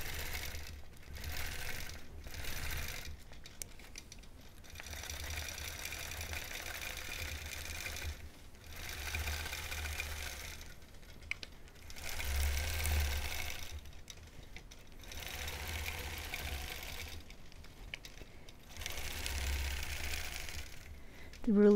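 A machine quilting fine, short stitches on a small mini quilt with a long arm quilting machine runs in bursts with short pauses, a steady whirring under a quiet room.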